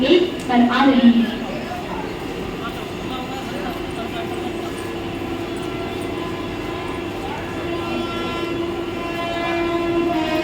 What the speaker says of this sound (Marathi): 6:46 की कल्याण जाने वाली ही लोकल थोड़े ही समय में प्लैटफॉर्म क्रमांक 1 पर आ रही है।